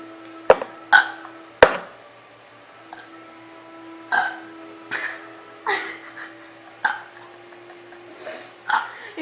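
Repeated burps, about a dozen loud, close bursts spread over nine seconds in an uneven rhythm, some sharp and short, others longer and rumbling.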